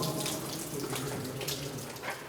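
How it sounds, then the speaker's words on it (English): Water runs through pipes inside a sealed WWII ammunition shaft as a steady rushing, splashing flow, fairly close and continuous, with no voices. "The water running through there"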